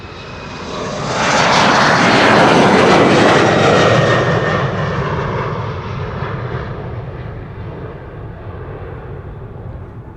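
An airliner departs Amsterdam Schiphol Airport on a sunny day, its loud broadband jet roar swelling to a peak near the start and then slowly receding into a steady, fading rumble with no talking.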